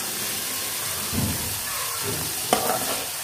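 Spice paste and potatoes frying in a pan for a Bengali lentil-fritter curry, giving a steady low sizzle with a couple of soft stirring scrapes and one sharper clack near the end.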